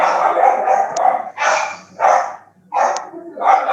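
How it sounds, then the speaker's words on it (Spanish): Puppies bark in a run of about four loud, close, high-pitched yaps with short gaps, and no one speaks. "porque hace mucha bulla acá los cachorros"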